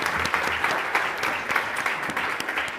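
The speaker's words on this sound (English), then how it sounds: "let's give her a big round of applause" An audience claps for a speaker at a talk on geopolitics and strategic communications, a dense, steady wash of many hands close by, with no voices over it.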